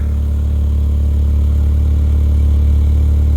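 A 1993 Ford Mondeo Mk1 engine idles steadily, heard from behind the car near the exhaust, a continuous low rumble with faint clatter and no voices.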